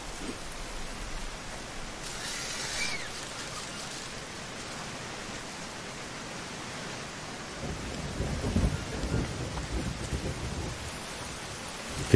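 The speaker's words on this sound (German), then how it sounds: "Gewittert, aber es kommt kein Regen" A thunderstorm in the Green Hell video game, a steady hiss of rain and wind with a deep rolling thunder rumble building in the latter half, faint and without talk.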